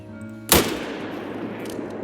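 A single loud rifle gunshot fired while hunting in the video game Call of the Wild, a sharp blast with a decaying tail rolling out over steady ambient background, no talk.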